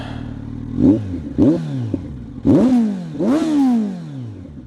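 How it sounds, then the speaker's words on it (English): A Kawasaki Z900 with a Leo Vince GP Corsa slip-on exhaust idles, then is revved four times in quick blips, each a sharp rising roar that falls back, loud and close with a throaty exhaust. "Let's give it a few revs."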